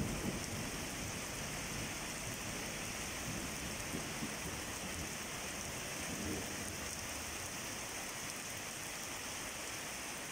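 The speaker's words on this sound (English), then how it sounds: "I really wish I could have had a proper audio recorder so I could record that, the rain and thunder." Steady rain falling through a thunderstorm, a dense continuous hiss of drops on surfaces with low rumbling underneath, constant and fairly close throughout.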